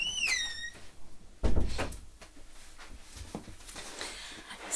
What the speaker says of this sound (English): Excuse me while I go and close my door.